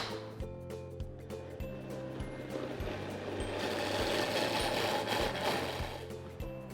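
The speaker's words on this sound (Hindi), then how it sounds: "अब इसे अच्छे से ब्लेंड करना है जब तक ये क्रीमी और स्मूथ ना हो जाए।" Electric blender whirring steadily as it blends cold milk and salt into a creamy no-oil, no-egg dressing, a close continuous motor drone that rises slightly in intensity midway and holds to the end.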